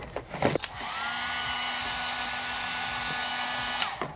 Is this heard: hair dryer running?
yes